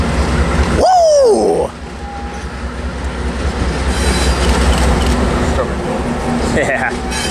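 A freight manifest train rolls past loud and close with a heavy steady rumble, wheel clatter and squeal, while a voice whoops near the start.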